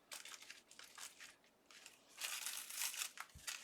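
Sticky tape is handled and peeled during paper crafting with die-cut doilies, giving quiet, close crinkling and ripping rustles in uneven bursts that swell louder toward the end.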